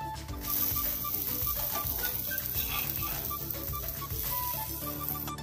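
A sweet wheat and cucumber dosa sizzles on a hot pan with a constant close hiss. A rhythmic mechanical ticking runs underneath.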